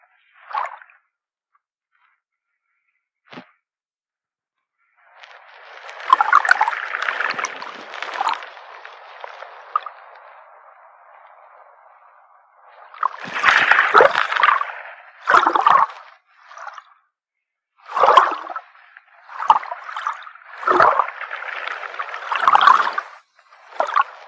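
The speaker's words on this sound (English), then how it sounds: "Now this is how actual waves sound from underwater." Ocean waves captured by a hydrophone underwater: muffled surges and bubbly rushes arrive in irregular bursts, some long and swelling, others short, separated by near-silent gaps, with no voices.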